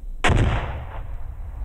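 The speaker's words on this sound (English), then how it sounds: "You came down here willing to throw two live hand grenades." A live hand grenade detonates at Army basic training at Fort Dix, New Jersey: one loud, sharp blast followed by a rumbling decay that fades over about a second, with no voices.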